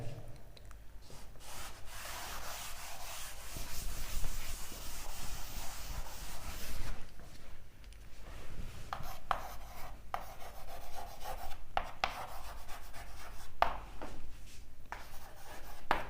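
A marker or chalk scratches across a board while chemistry structures are written out, steady rubbing strokes in uneven bursts with short pauses between, close and clear, with no talking over it.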